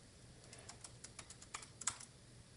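Rapid, light keystrokes patter on a MacBook Pro M4 keyboard, a dozen or so quiet taps in an uneven rhythm, close and alone without talk.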